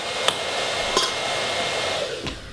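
Blow dryer running steadily nearby, a constant broadband whoosh lasting the whole stretch with a few faint clicks and no voices.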